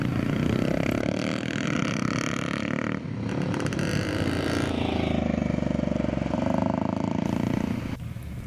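Vintage motocross motorcycles race around a dirt track at a Scottish vintage motocross event at Thornhill, engines droning loud and continuous with rising and falling revs from several bikes close by.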